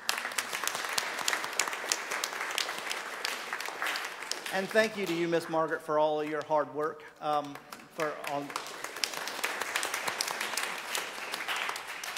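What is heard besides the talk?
church congregation applause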